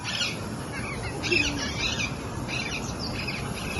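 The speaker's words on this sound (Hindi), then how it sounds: "और सुबह सुबह चिड़ियों की चाहे काट भी सुनाई दे रही है" Parrots and other birds squawk and chirp in the early morning near the Beas river, several calls rising above a steady background hiss, moderately near and fairly faint.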